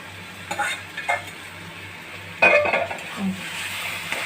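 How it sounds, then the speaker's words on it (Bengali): Onion and garlic frying in a little oil in a kadai, with a soft, steady sizzle under scattered spatula scrapes and clinks against the metal, near and moderately loud. "হালকা একটু তেল দিয়ে পাশের চুলাতে কড়াইতে পেঁয়াজ রসুনটা ভাজতে নিয়েছি"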